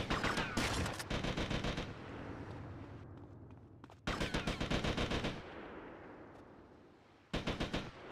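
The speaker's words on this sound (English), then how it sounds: "Yeah, it's a gun." Gunfire in GTA: Vice City Stories: three loud bursts of rapid automatic shots, each followed by a long decaying echo, with low rumbling between bursts.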